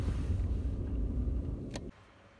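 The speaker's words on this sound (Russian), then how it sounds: "Прямо с правой стороны машину поставим аккуратненько" Low car engine rumble running steadily while the car is eased into a parking spot on the right side, then cutting off abruptly near the end, followed by a short click and quiet.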